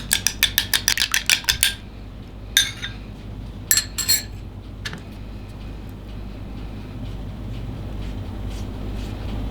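A spoon clinks quickly against a bowl while stirring egg yolk mixed with liquid milk, a dense run of bright taps at the start, then a few scattered clinks over a steady low hum.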